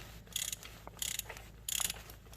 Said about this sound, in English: Go ahead and loosen it slowly to the point where you can loosen it by hand.